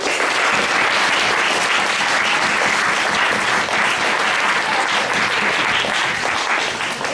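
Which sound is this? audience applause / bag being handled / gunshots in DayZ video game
audience applause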